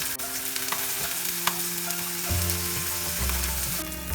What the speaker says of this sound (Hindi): हल्का सा फ्राई कर लेंगे हम पनीर।